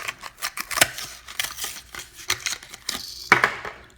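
Someone rips open the blister packaging of a 1/64 scale Hot Wheels diecast car, black and red. Close, sharp plastic crackles and tearing bursts come in uneven clusters, with a louder rip near the end and no talk over it.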